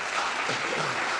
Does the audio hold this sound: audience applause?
yes